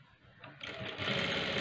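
A domestic sewing machine stitches a blouse sleeve in a short burst, its motor whirring up from quiet to a steady, close, rapid rattle with no talking.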